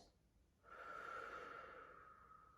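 A single slow exhale during a relaxation breathing exercise, a soft, close, airy breath lasting nearly two seconds before fading gently.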